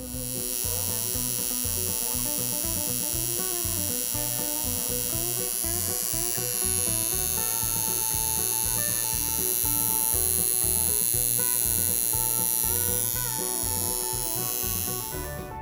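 A small handmade tattoo machine runs steadily, giving a loud, continuous electric buzz with a rapid pulsing rattle that holds level throughout without pause.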